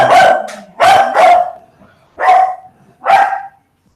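A dog barks five times in short, loud, close bursts with brief gaps between them, the last bark trailing into a whimpery tail, with no voices.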